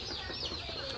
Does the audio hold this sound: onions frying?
no